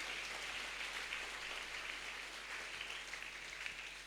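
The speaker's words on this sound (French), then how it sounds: "Acclamons fort pour le Seigneur." A church congregation applauding in steady, dense clapping that holds at an even, fairly loud level throughout without a break.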